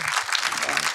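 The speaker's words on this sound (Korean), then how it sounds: "여러분들 큰 박수 부탁드립니다" An audience at a Korean movie talk event for the film 천문: 하늘에 묻는다 claps, a brief dense burst of steady applause filling the room.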